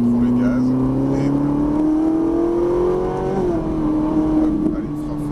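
A Ferrari 458 Italia on a track with the throttle gradually reopened, the engine note climbing steadily then dipping briefly before holding, loud inside the cabin with voices talking over it.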